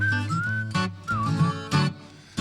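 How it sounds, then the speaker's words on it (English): A person whistles the tune of a song in a bluegrass setting, a wavering melodic line broken by short breaths and brief pauses, close and fairly loud. "I'm going to try to whistle."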